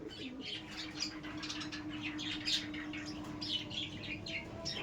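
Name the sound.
Giribaj pigeons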